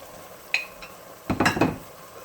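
A seafood casserole mixture with cream and vegetables is stirred in a pot: a couple of light clinks, then a short burst of spoon scraping and thick, wet churning, close and fairly loud.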